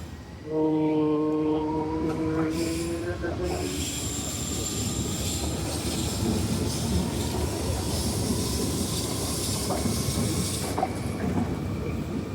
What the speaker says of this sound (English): Back on our rail network to the most beautiful train.